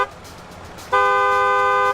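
Car horns honk in city traffic: a steady, loud sustained horn blast starts midway and holds to the end over a low rumble of road noise.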